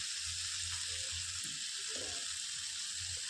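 Pointed gourd pieces with ginger paste fry in oil, a faint, steady sizzling hiss with soft low bumps of stirring underneath.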